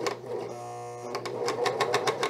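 A sewing machine stitches the raw hem edge of a fleece pullover, running in quick rhythmic bursts with a steady whirring motor and repeated needle clatter, close and clear with no talking.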